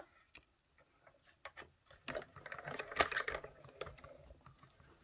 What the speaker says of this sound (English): We're just going to die cut one of those.